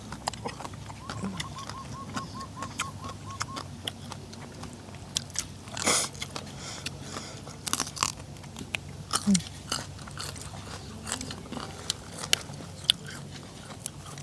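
Crunchy bites and chewing of raw white cabbage eaten with spicy papaya salad, sporadic loud snaps close to the mic over soft ambient noise.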